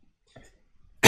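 A single loud, harsh cough bursts out at the end, following a few faint mouth noises and a short murmur, from a person hosting a live Smash Up card game stream.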